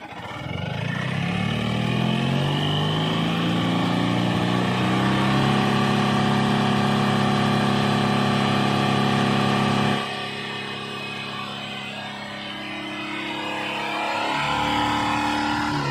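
A Tata Ace 1200cc engine runs during a demo, revving up loudly and holding a strong steady drone, then dropping to a quieter idle before climbing again near the end.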